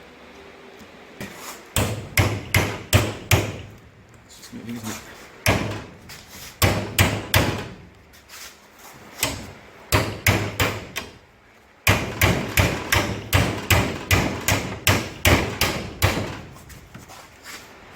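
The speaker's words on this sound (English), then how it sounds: "I'll grab a hammer." Repeated sharp hammer blows on a metal rod in a Chrysler Valiant AP6 in several rapid bursts, with short pauses between runs, close by; someone speaks briefly in the middle.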